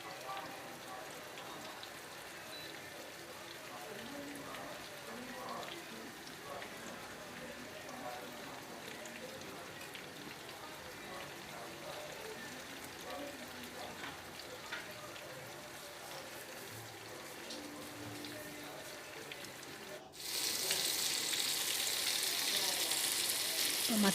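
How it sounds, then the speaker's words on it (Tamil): Afghani-style chicken pieces frying in oil in a pan, a steady fine crackling sizzle running throughout at moderate level, growing noticeably louder and brighter near the end, with no talking over it. "ஆயிலில் ஃப்ரை பண்ணி எடுக்கணும்."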